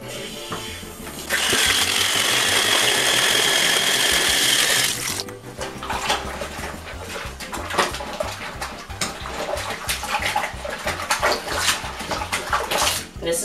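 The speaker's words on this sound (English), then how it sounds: "I might put more cold water in here." Cold water gushes from a tap into a bathtub in a loud, steady rush for a few seconds, then gives way to sloshing and splashing water close by, with no talking.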